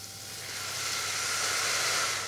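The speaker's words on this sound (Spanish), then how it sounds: "Y añadiremos un poco de vino blanco." A splash of white wine hits a hot pan with butter, garlic and shallot, giving a steady hissing sizzle that swells slightly and holds, close and moderately loud.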